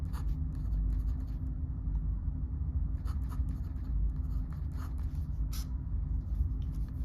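A pen or marker scratches out an equation by hand in short bursts of strokes with pauses between them, set over a steady low hum.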